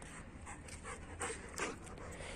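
A German Shepherd pants close by in quick, soft, rhythmic breaths, fairly quiet and with no other voices.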